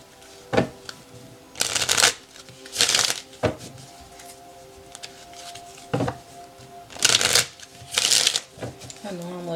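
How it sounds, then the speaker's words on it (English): Tarot cards being shuffled by hand in repeated riffling bursts, crisp and close, with several longer shuffles separated by brief taps and pauses, under a soft steady background hum. "I normally don't shuffle on camera."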